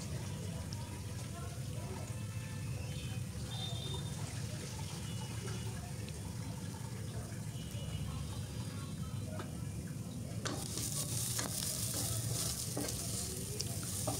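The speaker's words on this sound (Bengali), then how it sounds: "এই তো ডালগুলো আমি ভেজে নিচ্ছি" Lentils frying in hot oil for a vegetable curry give a steady, close sizzle with a dense, even hiss. The hiss grows brighter and louder toward the end, and a faint voice sits in the background.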